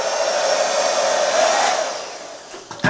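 A hair dryer runs during a blow out of coarse, thick hair with added weave, blowing a steady close whine with a strong hum that dips slightly before a few handling bumps at the end.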